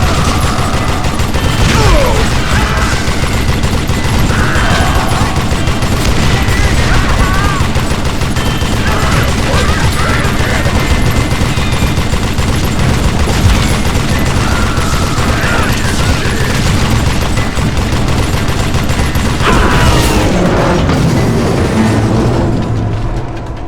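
Sustained gunfire from a train robbery shootout in Call of Juarez: Gunslinger, dense rapid volleys and booms rolling over rumbling train noise, loud and continuous, with a voice briefly shouting amid the fray.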